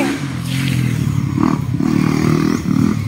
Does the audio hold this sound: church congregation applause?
no